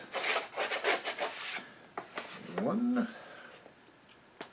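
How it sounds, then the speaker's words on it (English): A knife slices open comic shipping packages with a quiet series of short scraping and rubbing strokes, close by. A voice briefly speaks partway through. "I'm gonna try to take this trusty knife and go ahead and get these open"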